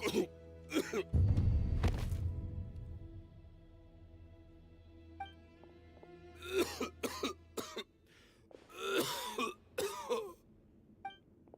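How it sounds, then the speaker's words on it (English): Several harsh coughs and throat-clearing bursts from a character in Genshin Impact, separated by pauses with a low ambient hum and faint tones underneath. "Why is he coughing so much?"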